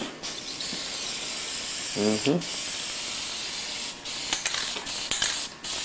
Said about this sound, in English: Just a little spray paint.